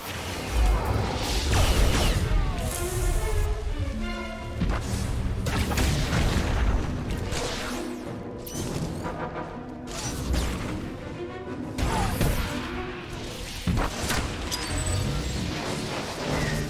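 Heavy booming artillery fire breaking an enemy shield in a SWTOR PvP match on Novare Coast, loud repeated blasts and crashes layered densely with whooshes and mechanical battle noise throughout.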